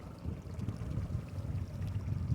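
A low, steady rumble of a 2017 Ranger Reata 20 ft pontoon boat's outboard motor idling smoothly on a lake, with faint water splashing and light wind noise, continuous and fairly quiet.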